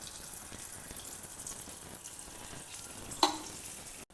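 A quiet, steady sizzle of batter frying in hot oil, with a brief clink near the end.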